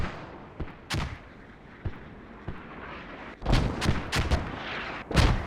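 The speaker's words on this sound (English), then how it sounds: "looks like we had a couple stray mortars hit Masawu" Mortar shells burst in the video game Squad: a few scattered booms early, then a denser cluster of heavy impacts and a final loud blast, each a sharp thud with rumbling tail over steady battlefield ambience.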